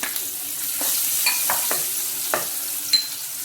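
Half an onion fries in hot oil for a tofu fry. A soft, continuous sizzle is broken by several brief scraping stirs close by, with no talk.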